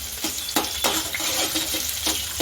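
Chopped onion and grated ginger are stirred in a pan with a spoon, giving steady scraping and clinking strokes over a faint sizzle, close and fairly loud.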